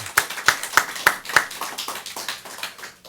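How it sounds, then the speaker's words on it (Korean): A short run of evenly spaced hand claps rings out in a lecture hall as listeners thank a professor after a theology lecture series; about five crisp claps lead, then looser clapping trails off. "우리 교수님께 다시 한번 감사의 박수 드리겠습니다."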